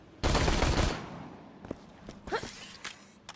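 A sniper rifle fires once in Borderlands, a loud broadband blast that decays over about half a second, followed by a few fainter thumps and clicks.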